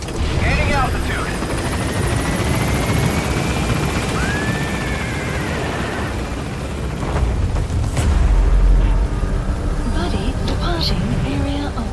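Pequod helicopter lifting off in Metal Gear Solid V: The Phantom Pain, its rotor roaring continuously and loud throughout while a radio voice talks over it.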